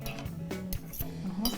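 A spoon clinks a few times against a dish of homemade pâté chinois with sweet potatoes and jerk chicken, giving light, close metallic taps with faint background noise.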